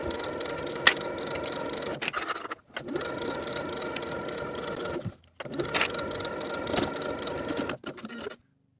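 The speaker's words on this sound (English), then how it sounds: "Then edge stitch close to that inner fold all the way around" Domestic sewing machine edge stitching close to the inner fold of a ruffle sleeve, three runs of fast, even whirring and clattering stitches separated by brief pauses.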